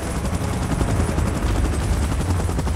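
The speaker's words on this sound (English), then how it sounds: "Chopper in position." A helicopter in an action scene where a chopper moves into position for an evacuation, a loud continuous rotor roar with rapid beating thumps and no voices.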